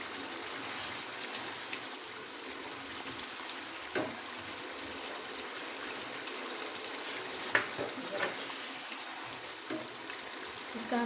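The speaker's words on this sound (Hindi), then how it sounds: "इसका हम पानी फ्राई कर लेते हैं अच्छी तरह।" Chicken for Sindhi biryani fries in oil and spices in a pan, a soft, steady sizzle with faint bubbling and occasional clinks of stirring, quiet and with no voices.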